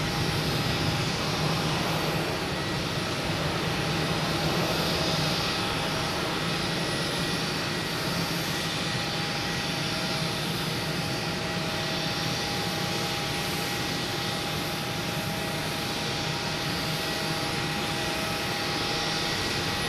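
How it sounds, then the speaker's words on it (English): A Virgin Atlantic airliner departs Boston Logan bound for Heathrow, its jet engines a steady, broad roar that holds strong and unbroken for the whole stretch, with no voices over it. "Now we have Virgin Atlantic. Heading back to Heathrow."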